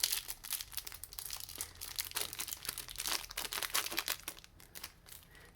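Crinkly foil wrapping of a Lord of the Rings TCG premium card pack being torn and opened close up, with a continuous run of rustling, crackling crumples and brief tearing bursts and no talking.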